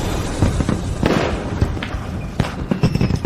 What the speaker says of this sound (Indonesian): Itu kembang api.